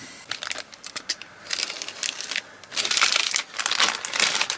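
Plastic bags holding clear glass parts from a Moebius 1966 Ford F-100 Flareside pickup scale model kit crinkle and rustle close up in bursts as they are handled and opened, with no talking.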